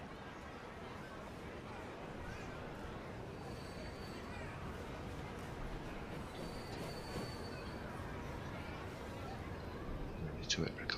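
Train running in the transport simulation game Transport Fever, a steady rolling rumble with faint wheel squeal throughout, ending in brief sharp clicks; no talk over it.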